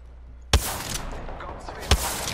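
Gunfire in the video game Apex Legends: two sharp, heavy single shots roughly a second and a half apart, loud and close, with a busy game ambience between them.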